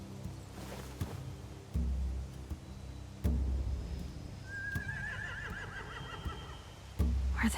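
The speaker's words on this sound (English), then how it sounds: "They have horses." Horses neigh and snort in The Walking Dead video game, a long wavering whinny rising out of low rumbling, with heavy thudding hoof and step sounds at intervals, fairly quiet and with no talk.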